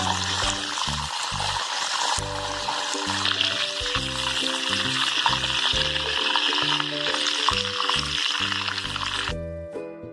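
Mutton koftas frying in hot oil, a loud continuous sizzle and crackle with stirring and a rhythmic low pulsing underneath, fading slightly at the end.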